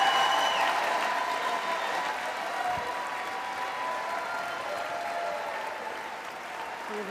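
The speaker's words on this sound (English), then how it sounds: "Some big applause." A large crowd gives sustained applause at the State of the Union address, a steady, distant wash of clapping that runs throughout with faint background voices.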